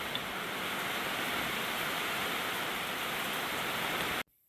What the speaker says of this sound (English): we're in the middle of a really big rainstorm and it's just deafening inside the studio